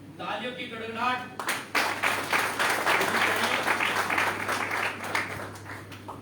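Loud applause from a crowd at a Valmiki Jayanti event bursts in after a brief voice and continues as sustained, dense clapping with a few sharper taps, over a steady background hum.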